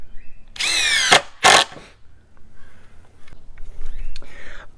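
A Ryobi P239 brushless impact driver running on a standard battery drives screws in two loud bursts, a longer rising whine followed by a short hammering burst, then lighter clicks and handling noise as it settles.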